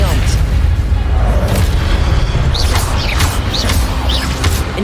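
The Expelliarmus spell is cast in Hogwarts Legacy: a loud, continuous booming rumble with bright whooshing swells layered over it, dense and close throughout.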